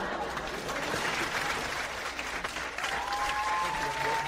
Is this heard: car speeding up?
no